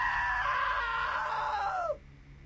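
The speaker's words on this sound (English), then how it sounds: "Now that was a great scream." A long, loud, sustained scream from a character in the video game What Remains of Edith Finch holds for nearly two seconds, then drops away abruptly into quiet.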